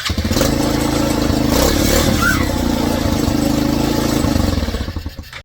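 An old Tao Cheetah ATV engine running after a stator replacement, a close, loud, steady idle with a rhythmic mechanical putter and light clatter that fades slightly at the very end.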